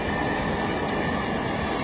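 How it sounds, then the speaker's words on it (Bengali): Steady rumbling drone of a metro train in motion, a constant loud rolling noise from inside the carriage, in Dhaka. "মেট্রো রেলে অবস্থান করছি পরিবার সহ।"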